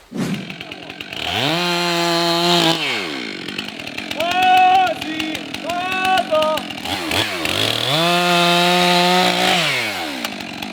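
A chainsaw cuts through a standing tree during felling, its engine revving in long loud sustained bursts with pitch rising and falling between cuts, close by, while people speak briefly in between.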